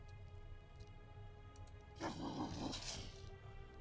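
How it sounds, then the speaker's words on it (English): A scared, injured hound howls faintly in a video game set in Dagorlad, with a short, louder cry rising over a quiet background about halfway through. "You have found the source of the howling sound."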